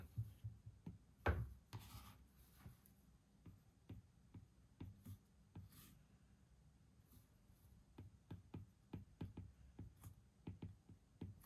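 Pen scratching across paper in short quiet strokes and taps, close and soft, while cash is sorted into envelopes for a budget, with a louder shuffle near the start.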